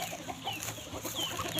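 Chickens cluck in a backyard flock with ducks nearby, short overlapping clucks and calls repeating over steady outdoor background noise, close and moderately loud.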